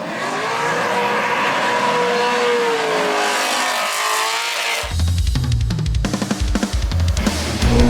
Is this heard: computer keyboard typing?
no